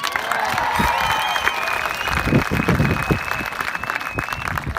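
Sustained applause from a high school graduation crowd after student speeches, steady clapping filling the venue with a few cheers, loud and dense throughout.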